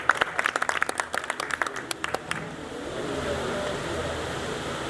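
Audience at a Punjabi poetry mushaira in Pakpattan clapping in a short, scattered burst for about two seconds, then a steady hall murmur.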